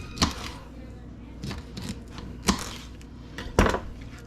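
A knife cuts skipjack fish into roughly 1.5-inch chunks on a board. Four distinct thunks fall at irregular intervals, with light handling noise between them, close and fairly loud.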